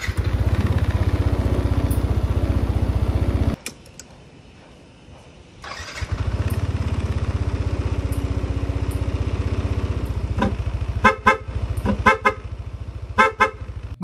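A motorcycle, freshly given an oil change, runs at a loud steady idle, cuts out briefly, restarts and idles on, with a few short horn beeps near the end.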